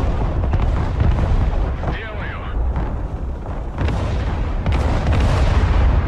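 Artillery fire in Broken Arrow, heavy booms and rumbling blasts rolling through a loud battlefield, several impacts in quick succession, with someone talking over them.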